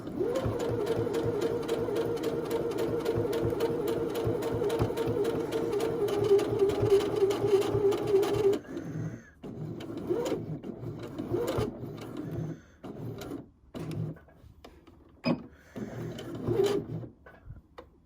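Sewing machine stitching a tailored pocket runs in a steady, loud whirring burst for about eight seconds, then stops, followed by short scattered clicks and handling of fabric.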